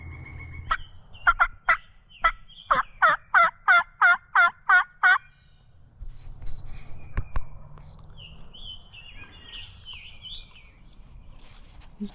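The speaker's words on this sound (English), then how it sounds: "He's gobbling, but he ain't coming in." A wild turkey gobbles during a Pennsylvania spring turkey hunt in open woods: a run of about eight loud, rhythmic gobbling pulses, then quieter rustling and faint, thin bird calls.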